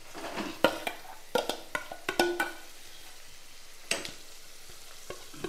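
Mashed elephant yam with fried onions is sautéed and stirred in a pan, with a bed of steady frying sizzle broken by sharp scrapes and clacks of the spatula in uneven bursts.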